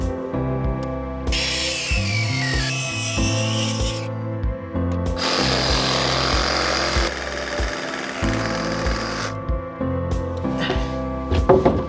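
Power saw cutting off the excess length of a heavy timber porch post, a steady loud whirring in long bursts with brief pauses between passes.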